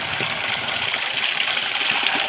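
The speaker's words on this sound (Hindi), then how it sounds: "इन चट्टानों के, इन पेड़ पौधों के अंदर से निकल के आता है छन के एकदम मस्त पानी।" Spring water seeps out from among rocks and plant roots in a hill setting, giving a steady, close, hissing trickle that runs without a break.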